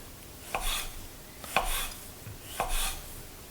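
Three evenly spaced knife cuts through lemon peel on a cutting board, each a crisp close chop with a soft thud, quiet with no talking.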